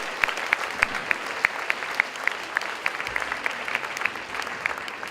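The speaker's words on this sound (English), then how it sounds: "Please give these girls a round of applause." Applause at a middle and senior school assembly for students, a steady round of clapping with a few close, crisp claps ticking regularly over the general crowd.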